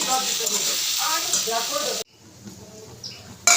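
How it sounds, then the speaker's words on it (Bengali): Onions frying in a pan for chicken biryani give a loud, close, hissing sizzle for two seconds, then drop to a much fainter sizzle before a brief loud return. "পেঁয়াজগুলো ভেজে নেব, দিয়ে দিয়েছি।"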